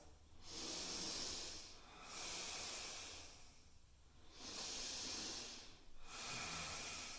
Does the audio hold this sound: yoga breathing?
yes